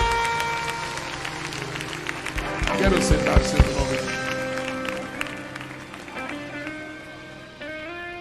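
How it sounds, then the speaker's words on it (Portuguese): A church congregation applauds with raised hands during a sermon, a burst of clapping that swells in the middle and then fades, mixed with a preacher's voice and sustained tones from instruments. "aplauda o melhor que você puder"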